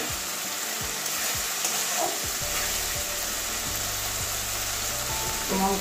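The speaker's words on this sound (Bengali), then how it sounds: "মশলাটা আমার প্রায় কষে গেছে, এই যে মশলা থেকে তেল ছাড়ছে" Masala spice paste frying in oil for a katla fish curry, a steady soft sizzle with occasional stirring scrapes and light clinks throughout, faint background voice at moments.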